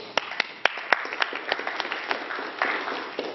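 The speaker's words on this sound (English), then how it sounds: "Round of applause for these two people." An audience claps for two volunteers called up front at a seminar, with a few sharp, distinct claps at first and then a thinner, uneven patter that continues to the end.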